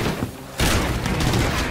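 A single loud gunshot fired in the tactical shooter Rainbow Six Siege, a one-shot headshot that downs Rook; a sharp blast kicks in abruptly and rings on with a sustained boomy tail.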